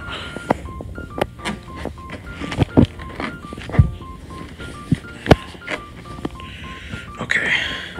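Telephone keypad tones as a call to the police is dialed, a series of short evenly spaced beeps over scattered thumps and handling noise, with some voice in the background.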